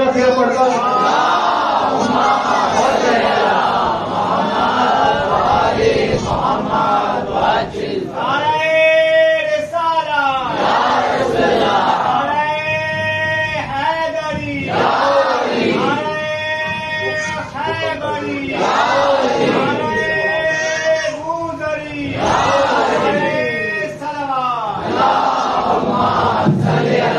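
A crowd at a religious majlis gathering in a khanqah calls out rhythmic chanted responses, loud massed voices rising in repeated bursts over a steady din, filling the whole stretch.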